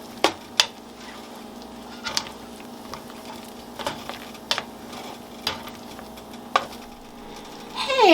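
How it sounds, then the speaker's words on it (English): A utensil clinks and taps against a bowl in an irregular rhythm while pork noodle sauce of water and salt is stirred, close up with a quiet background hum. "Stir it around a little bit."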